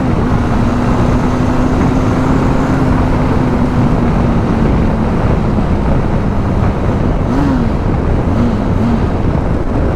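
A Benelli TRK 502 motorcycle is ridden on the road, its engine droning steadily and rising and falling slightly in pitch beneath loud, constant wind buffeting across the microphone.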